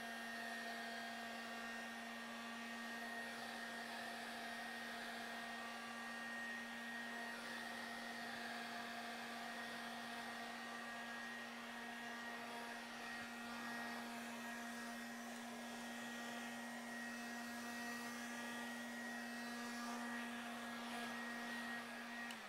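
A hair dryer runs steadily to dry paint on an abstract art journal page, a constant close motor whine and airflow hiss holding a single unchanging tone for over twenty seconds, alone without talk.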